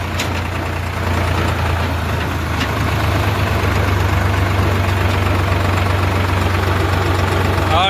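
A tractor engine idles steadily with a low, continuous rumble and faint knocking, loud and close throughout.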